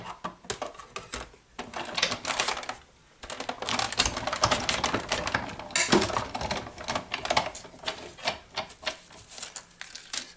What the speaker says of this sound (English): I'm going to cut my DSP panels. This way I can cut 2 at one time.